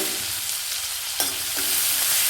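Onion frying with chana dal and urad dal in oil for shavige bhath, a dense steady sizzle close up with a couple of brief spatula scrapes.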